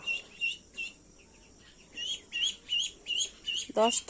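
Small ducklings peep in short bursts, several high chirps spaced irregularly then in a quicker run near the end, fairly faint and close, with a quiet background between calls.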